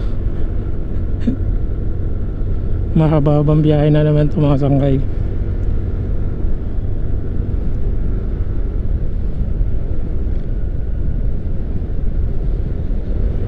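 A heavily loaded motorcycle riding on the road near Tagaytay, a steady low engine drone with wind rush throughout and a brief horn-like tonal blast partway through, while someone talks over it.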